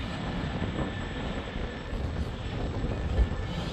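An Arrma Senton 6S V3 RC truck runs at full throttle outdoors with a sustained, high-pitched electric whine and rushing, gritty noise, fairly loud and fluctuating slightly as it speeds along.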